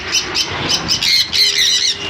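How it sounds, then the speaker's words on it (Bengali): Sun conure parrots squawk in a rapid series of loud, harsh shrieks, the calls overlapping and growing denser toward the end, close to the listener with no talking. "এখানে আছে শানকনুর সম্পূর্ণ রেড বেসের মধ্যে শানকনুর"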